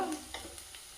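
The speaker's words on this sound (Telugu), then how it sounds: "ఆయిల్ గరం అయిన తర్వాత అందులో జీలకర్ర, వేడి అయిన ఆయిల్లో" Cumin seeds frying in hot oil for samosa chutney give a faint, brief crackling sizzle with a few soft stirring clicks, close by and without speech.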